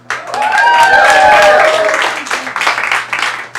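A comedy improv show audience claps and cheers loudly for a few seconds, with voices calling out over the applause before it thins into scattered claps.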